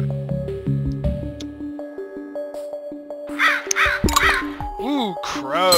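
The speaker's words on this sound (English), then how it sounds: "Ooh, crows." Crows caw in the video game Plague Inc, several harsh rising-falling calls in the second half over game tones and musical notes, while a person talks alongside.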